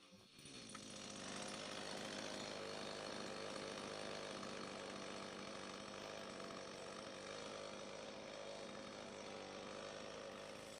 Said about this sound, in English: as soon as the chainsaw starts, we have to quickly press the throttle once